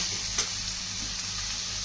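Potato curry being stirred in a pan makes a steady close sizzle with faint scraping, continuous and even throughout, with no voices.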